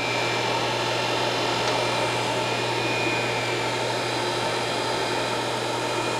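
A Bryant Universal internal grinder runs in a workshop, giving a constant, even whir with a low hum and hiss. The sound stays at one level throughout, close by, with no talking.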